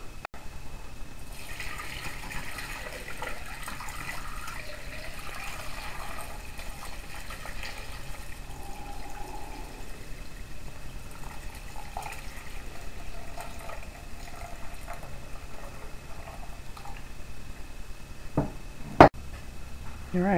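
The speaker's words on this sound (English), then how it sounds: "the way I strain the stock is to pour it through a sieve into another pan" Turkey stock is poured from a pot through a sieve into another pan, giving a steady, fairly quiet liquid pouring and splashing stream that runs for about twenty seconds, with a small clunk near the end.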